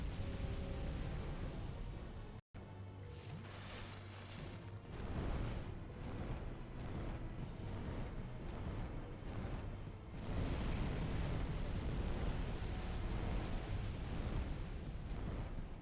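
A dragon's fiery breath in Dark Souls 2, a long rushing roar of flame with booming surges, loud and sustained, swelling and continuing for many seconds after a brief cut.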